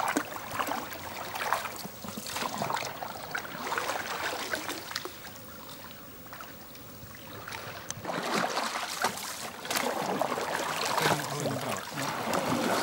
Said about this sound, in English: Tom paddled through the wetlands with his friend and colleague Fyodor